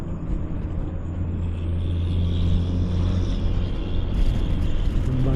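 A car on a road near palm oil plantations in Luwu Timur, South Sulawesi, heard as a steady loud low rumble and engine drone close by, with wind noise throughout and no talking.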